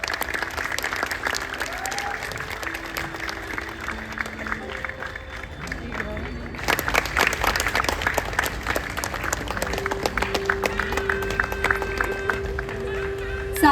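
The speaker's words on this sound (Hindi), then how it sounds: "जोरदार तालियां हो जाए।" An audience at the Jaipur Literature Festival breaks into sustained applause, a thick wash of clapping that swells louder partway through and stays strong to the end, with faint voices underneath.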